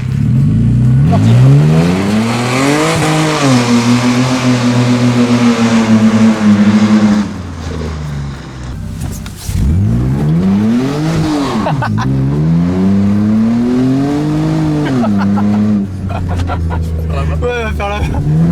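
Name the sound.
Renault Espace V6 race car accelerating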